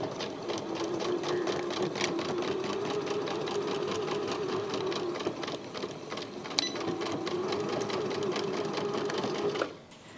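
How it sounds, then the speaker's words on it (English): Sewing machine running a continuous stitch along a trouser waistband seam, a steady close mechanical whir with a rapid needle rhythm that halts abruptly near the end. "So I can go in there now and stitch that with a shorter stitch."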